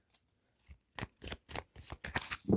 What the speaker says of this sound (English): kind of shuffling the cards.